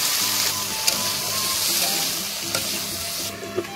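Tiger prawns sizzle in hot mustard oil with turmeric and salt in a village kitchen, a loud steady frying hiss with a few sharp stirring clinks of a spatula.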